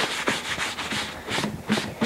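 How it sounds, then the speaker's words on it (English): Aqua Coat pore filler rubbed in circles across the grain of a guitar's wooden back, a close, rhythmic scrubbing and rasping with repeated strokes and no voices. "I'm kind of working across the grain in circles, trying to work it into the pores."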